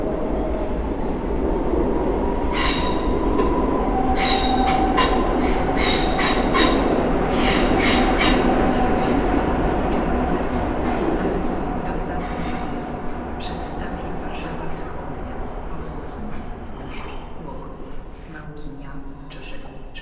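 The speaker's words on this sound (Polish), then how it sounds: "pociąg z Łodzi Fabrycznej do Białego Stoku opuszcza tor przy peronie drugim" An Intercity train on the Łódź Fabryczna to Białystok service pulls away from platform two at Warszawa Centralna, a loud steady rumble of wheels and cars with squeals and clacks that fades toward the end while people talk nearby.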